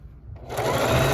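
A sewing machine stitches knit shirt fabric being sewn into a pillow, starting after a quiet moment and then running as a steady, close, continuous mechanical whir.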